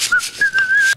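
A person whistles a quick tune, a few short pitched notes followed by a longer held note, close and clear with no talking.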